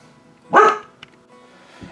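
A single sharp dog bark rings out close by, followed by quiet background noise and a faint small yip.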